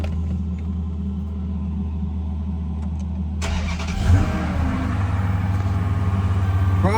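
A Dodge Charger engine cranks after a fuel pump replacement, then catches and fires up, settling into a steady, rumbling idle up close, with a brief surge as it starts.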